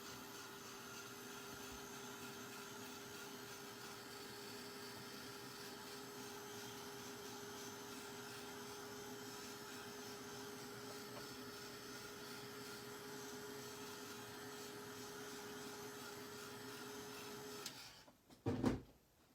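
A heat tool dries paint on a craft project with embossing powder and stencils, a steady close whirring blow that runs unbroken and then cuts off with a brief clatter at the end.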